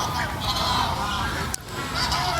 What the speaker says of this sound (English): all the geese over there